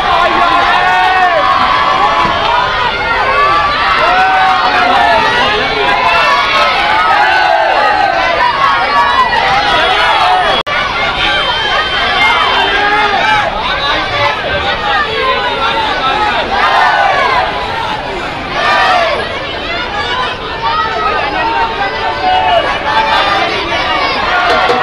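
Dense, loud crowd of Navratri devotees thronging the Gadaphatak Mahakali darshan in Jabalpur, a continuous babble of many voices and shouts filling the whole span, with talk mixed in and a brief dip near the end.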